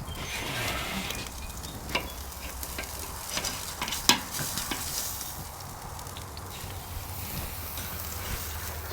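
Ribeye steaks sear hot and fast on an SNS kettle grill, a steady fatty sizzle and hiss running throughout at close range, with a few sharper pops and crackles breaking through.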